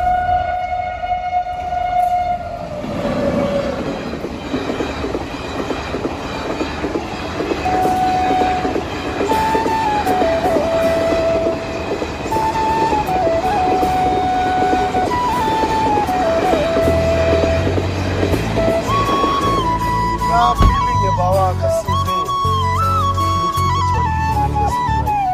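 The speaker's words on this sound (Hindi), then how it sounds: "तो भाई रेल आ रही है" A train passes close by at a railway crossing in India, its heavy rolling clatter steady throughout while the horn sounds in long tones, rising toward the end.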